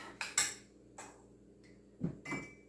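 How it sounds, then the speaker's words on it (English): Granola ingredients are stirred in a bowl, a few soft, sparse clinks and scrapes of a utensil against the dish, quiet and close, spaced irregularly over a couple of seconds. "I'm going to stir that around"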